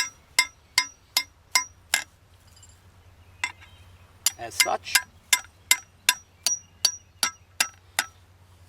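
A rip claw hammer drives 12-inch metal stakes into field ground while goose decoys are set up, sounding sharp, ringing strikes in steady runs of several blows separated by a short pause, with a brief spoken remark.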